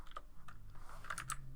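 Keys on a computer keyboard tapped in a quick, irregular run as a command is entered into a Linux server terminal, close and fairly quiet, with no talking.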